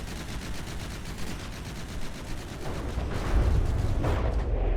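Cram cannons firing in a video game ship battle make a rapid, continuous stream of gunfire bursts that grows heavier, with deeper booms toward the end and no talk.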